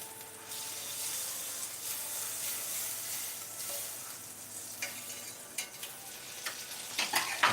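Butter sizzles steadily in a hot Wagner 5-Star cast iron combo skillet, a dense continuous hiss with a few louder crackles and pops toward the end, no talking.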